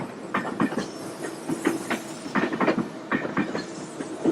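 Train rolling along rails on the approach to the Barog tunnel, with steady rhythmic clickety-clack of wheels over joints and carriage rumble, close and continuous with no talk.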